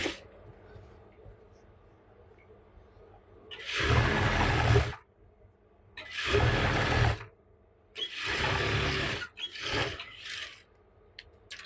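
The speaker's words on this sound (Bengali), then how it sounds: "হাইয়ের এখানে 1/2 ইঞ্চি পরিমাণ চওড়া রেখে সেলাইটা দিয়ে নিতে হবে।" A sewing machine stitches the rise seam of palazzo pants in four loud, steady whirring runs, each lasting about one to one and a half seconds, separated by brief pauses, with no talking.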